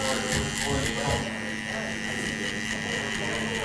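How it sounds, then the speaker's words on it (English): Electric hair clippers with no guard trim a beard down, a steady close buzzing hum running continuously throughout, with a voice heard faintly underneath. "Clippers, no guard."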